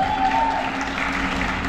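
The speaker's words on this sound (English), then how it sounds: "Big round of applause for your men's physique champion, Monty Davis." Applause from a crowd greeting the men's physique champion at the PCA Florida Classic bodybuilding show, a steady, fairly loud wash of clapping that lasts the whole short moment with no break.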